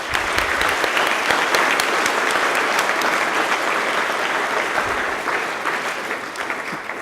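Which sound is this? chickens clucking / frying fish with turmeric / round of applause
round of applause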